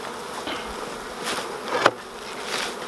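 Honey bees from a nucleus colony buzz steadily close by as the nuc box is moved, a continuous hum with a brief knock partway through.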